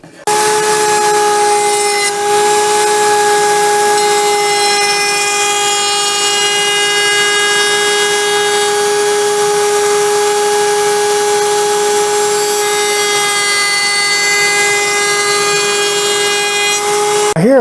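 Router with a bearing-guided cutter cutting a dado in wood for a ladder chair, a loud, steady high-pitched whine with strong tones that holds without a break for the whole span.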